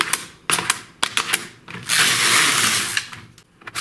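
A Silver Reed LK150 knitting machine casting on, with sharp mechanical clacks and ratcheting clicks followed by a longer sliding carriage rasp, then a few more clicks.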